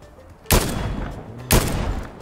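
Two sharp, loud gunshot bursts from a video game ring out a second apart, each followed by a rumbling decay, with no talk over them.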